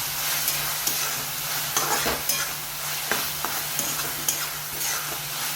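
Vegetables are stirred in a hot pan with turmeric, coriander-cumin powder, asafoetida and salt, giving a loud, close sizzle with repeated scraping strokes of the spoon at an irregular rhythm.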